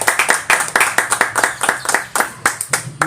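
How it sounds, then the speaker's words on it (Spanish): A church congregation claps hands together in praise during a Spanish-language evangelical service, producing steady, fairly fast rhythmic claps that sound close and lively, with no talking over them. "Denme una ofrenda de palmas al Señor"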